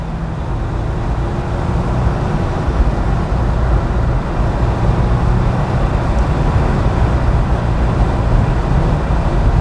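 A 1996 Porsche 993 Carrera 4 Cabriolet cruises down a road, giving a steady, loud low rumble of engine and tire noise from inside the car, with no talking.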